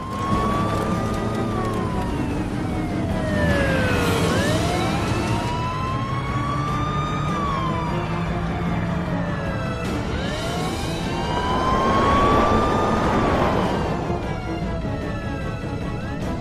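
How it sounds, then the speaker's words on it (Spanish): Wailing police siren during a car chase, rising and falling in long sweeping cycles over a steady rumble of a car engine, loud and close throughout with no voices. "ahora una persecución en coche"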